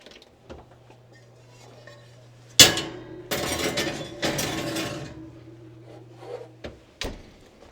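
A cast iron skillet being seasoned is set back into a home oven: a loud metallic clatter and scrape against the rack, then a rattle and a couple of clunks as the door shuts, over a low steady hum.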